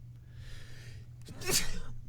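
A single sharp sneeze comes after a brief intake of breath, close and fairly loud against a quiet background hum.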